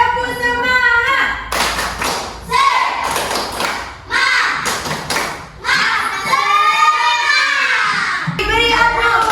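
Fourth-grade children in an Indonesian classroom clap in a quick rhythmic "tepuk semangat" pattern together with shouted chant-like voices, loud and close, in a few bursts.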